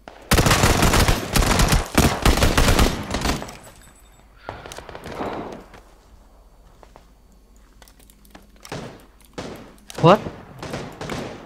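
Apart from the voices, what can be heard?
SKS rifle gunfire in PUBG video game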